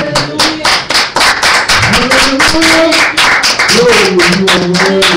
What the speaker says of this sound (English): give a Father a hand clap of praise